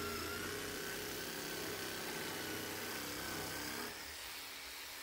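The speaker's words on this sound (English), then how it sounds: "So here's some 18mm MDF. I'm just doing a curve cut." Parkside 12V cordless jigsaw cutting a curve through 18mm MDF, a steady close buzzing drone that drops slightly in level near the end, with no talking.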